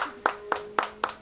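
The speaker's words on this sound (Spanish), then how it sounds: "gracias por ese aplauso, claro que sí." Four sharp, evenly spaced claps ring out, about a quarter second apart, from an audience at a restaurant inauguration, fairly close with a faint steady hum beneath.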